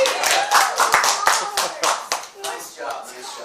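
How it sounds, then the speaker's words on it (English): A variety show audience applauds a contestant who has just won a lemon prize. Quick, uneven clapping from a small crowd comes close and lively, with children's voices and chatter mixed in. "Give him a round of applause,"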